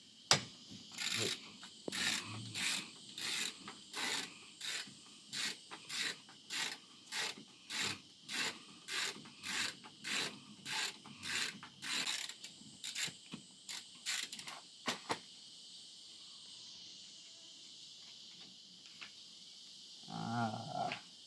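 A wrench ratchets in about twenty quick rhythmic clicking bursts as a 21 mm rear shock absorber nut on a Peugeot 206 SW 2.0 HDi is loosened, close and clear, then a few scattered clicks and a low rumble at the end.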